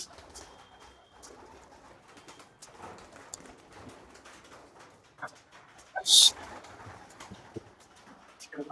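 Pigeons coo softly amid rustling and shuffling, with a brief sharp flutter or clap partway through.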